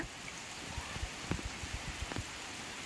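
Steady rain falls in a Kerala garden with young banana plants, making a constant soft hiss with scattered drip and patter sounds, faint and even throughout.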